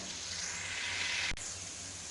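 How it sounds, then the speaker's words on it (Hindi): Chopped onion frying in hot ghee gives a steady broadband sizzle with a brief break partway through, close and moderately loud with no talking. "अभी इसके अंदर मैं प्याज ऐड कर दूंगा।"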